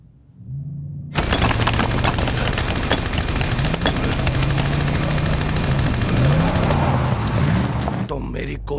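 Sustained gunfire in an animated sci-fi action film, a dense, loud barrage of rapid shots over a low droning engine, running continuously for several seconds before cutting off abruptly.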